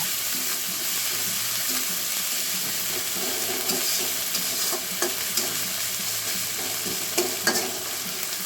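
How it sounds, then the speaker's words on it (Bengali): Onions and green chilies frying in oil in a pan, a continuous dense sizzle with occasional spoon scrapes and stirring clicks, close and steady throughout, no voices. "কাঁচামরিচ পেঁয়াজটা গোলাপি করে ভেজে নেব"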